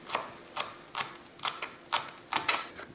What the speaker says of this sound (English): And obviously I'm going to cut the scallions.